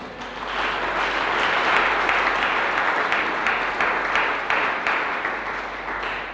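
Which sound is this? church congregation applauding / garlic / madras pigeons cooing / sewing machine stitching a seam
church congregation applauding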